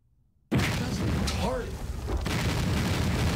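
Missile explosions in the video game Interactive Buddy: a sudden loud boom after brief quiet, followed by sustained rumbling blast noise.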